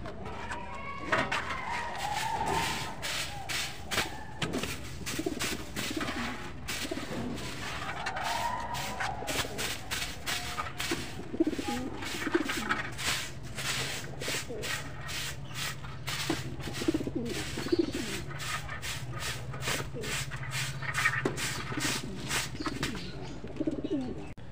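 Pet pigeons cooing in a loft, soft repeated throaty coos recurring throughout, with wing flutters, shuffling and scratchy rustles nearby.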